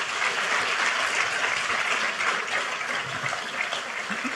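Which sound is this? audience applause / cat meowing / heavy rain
audience applause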